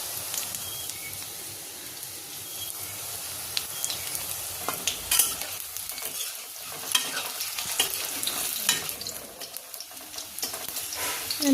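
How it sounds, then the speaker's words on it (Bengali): Potato pakoras sizzle and crackle steadily in hot frying oil while being stirred, with scraping, clattering stirs breaking through the constant close hiss. "পকোড়াটা লড়াচড়া দিতে হবে, নাহলে এটা ব্রাউনিশ হবে না"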